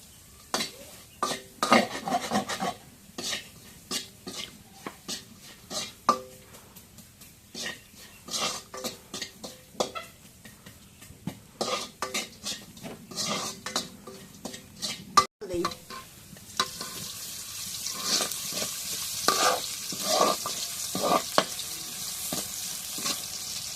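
Onions frying in hot oil in a pan, with steady crackling sizzle and repeated scraping strokes of a utensil against the pan, the sizzle growing louder and denser toward the end.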